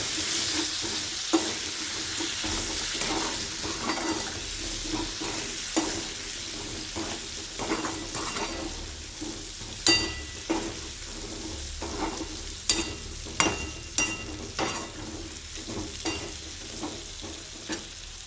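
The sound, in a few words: sautéing drumsticks in a pan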